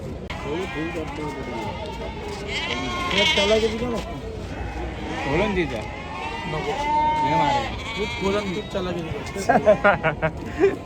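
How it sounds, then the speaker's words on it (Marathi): Sheep bleating amid the crowd noise of a large goat, sheep and poultry livestock market, with overlapping calls from several animals near and far under continuous voices and chatter. "इकडं ज्या मेंढ्या आहेत त्या मेंढ्यांची मोठ्या आवक असते इकडं का"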